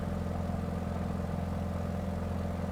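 The radial engine of a Beechcraft D17S Staggerwing in Microsoft Flight Simulator 2020 drones at steady power, a continuous low, throbbing hum with no change in pitch and no voices over it.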